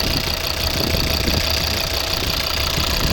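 A 2011 Volvo V50 2.0 D3 diesel with automatic transmission idles steadily and close up, a constant diesel clatter and knock with a dense hiss, even and unbroken throughout.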